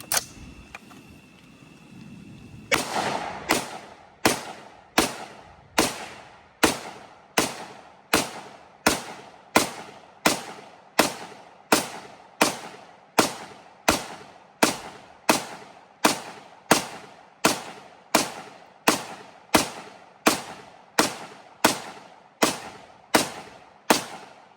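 Rifle or pistol shots fired down an outdoor range at night, about twenty-five sharp cracks spaced roughly every three-quarters of a second in a steady rhythm, loud and close with no talking.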